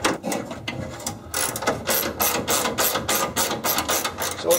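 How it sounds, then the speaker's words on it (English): A ratchet loosening the window regulator bolts inside the door of a 1968 Firebird, heard as close, rapid clicking bursts that start slowly and then run in quick, steady strokes. "undo your 4 bolts for your regulator"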